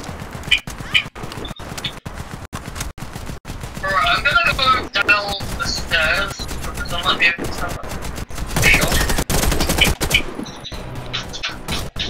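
Gunfire in the video game Warface on the Switch: loud, rapid automatic bursts and sharp single shots crack close by throughout, with hard impact sounds, dense and continuous with brief gaps.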